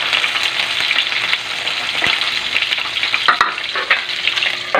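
Two pieces of tilapia fry with garlic in a pan, a loud close sizzle crackling steadily, with a few spatula scrapes and pops as the fish is stirred.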